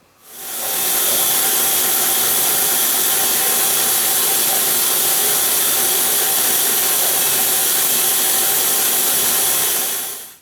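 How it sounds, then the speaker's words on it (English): Mahogany board fed through a thicknessing machine, cut down to a thin strip for a ukulele: a loud, close, continuous roaring whine that starts abruptly, holds steady for about ten seconds and then stops. "we're just going to run this piece of mahogany through to yield a 3/16 of an inch thick piece of mahogany"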